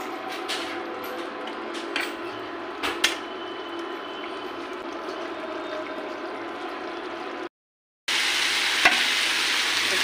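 Garlic frying in oil in a home kitchen pan alongside a vegetable fry, a steady close hiss with occasional stirring scrapes and clatters, a brief silent gap, then the sizzle returning loud.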